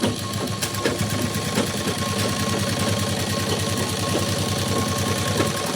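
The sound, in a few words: sewing machine stitching a blouse fitting seam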